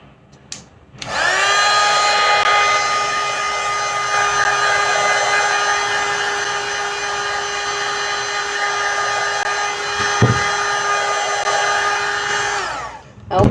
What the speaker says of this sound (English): you just keep on rotating your heat gun like this so that it does not blow the air at one procedure only